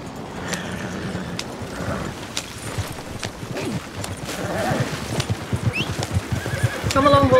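Horse neighs and whinnies with clip-clopping hooves in the Red Dead Redemption 2 video game, several whinnies rising over steady hoofbeats and game ambience, louder toward the end.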